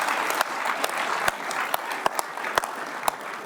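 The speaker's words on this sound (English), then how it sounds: "You can give your coach a round of applause." Guests at a luncheon honouring a national championship football coach give a round of applause, a soft, steady patter of clapping with a few sharper, louder claps standing out near the front.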